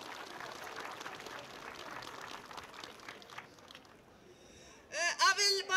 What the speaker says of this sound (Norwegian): Ja, gi dem en applaus.